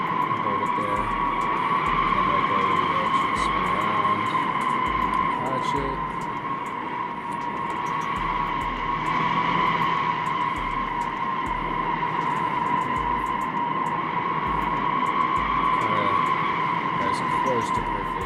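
A BeamNG.drive car spins through a drifting donut under a steady, high engine whine, with tires skidding and scrubbing in a continuous loop. Someone talks over it the whole time.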